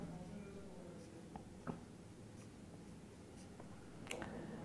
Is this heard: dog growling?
no